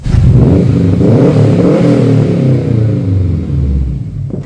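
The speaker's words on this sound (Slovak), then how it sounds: "Ten výfuk náhodou dosť dobrý. Pri normálnej jazde je skutku tichý, ale keď tomu vytneš," A modified car exhaust revs loudly and close by, a deep throaty roar that climbs and holds, then tapers off near the end, with no talk over it.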